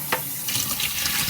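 Cold tap water runs steadily into a sink to rinse cut potatoes for healthy French fries, a continuous close splashing hiss with no talking.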